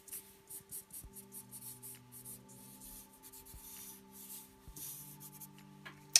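Pencil shading across paper while drawing a king cobra, a soft close scratching and rubbing in short repeated strokes with brief pauses, quiet and steady with a faint background hum.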